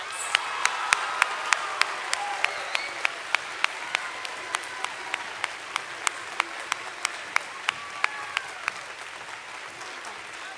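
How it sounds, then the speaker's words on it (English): Audience applause at a high school veterans assembly, a sustained patter of clapping from a seated crowd in a hall, steady and moderately loud for about ten seconds with no voices. "Please give them one more round of applause."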